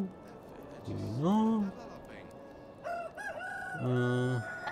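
Roosters crowing in the medieval farming game Medieval Dynasty, two clear rising-and-falling crows from young cocks, loud and close, over a low steady background hum.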